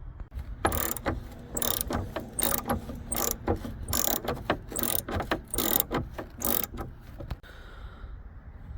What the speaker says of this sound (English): you'll have one 10mm screw just inside this hole, so you want to unscrew it as well